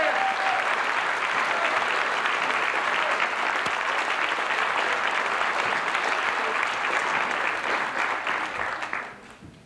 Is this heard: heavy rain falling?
no